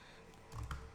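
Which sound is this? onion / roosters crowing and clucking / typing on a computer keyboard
typing on a computer keyboard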